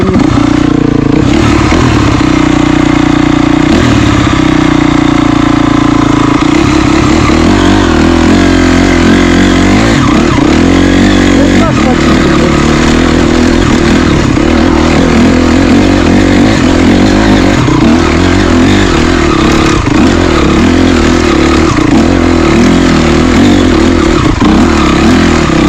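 Off-road motorcycle engine revving hard in first gear on a wooded trail, loud and close for the whole stretch, the pitch rising and falling as the throttle works and the rear wheel spins.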